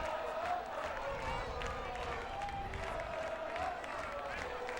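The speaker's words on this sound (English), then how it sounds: "the crowd is definitely into it" Steady crowd noise from spectators cheering and shouting at a 2012 FHSAA boys high school lacrosse final, a continuous roar filling the whole stretch with broad, dense texture and no single standout burst.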